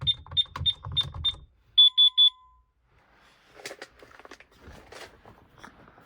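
A Honeywell Vista 15P security alarm keypad sounds a few sharp, rapid beep bursts followed by a short tone, then quieter handling and clicking noises, with no talk.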